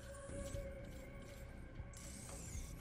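A spider mine robot scuttles along in Killzone Shadow Fall, giving off a soft, steady ratcheting mechanical whir with faint clicking steps under a quiet humming ambience.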